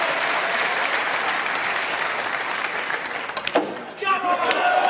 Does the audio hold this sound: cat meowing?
no